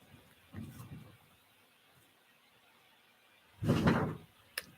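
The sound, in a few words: doors slamming in a house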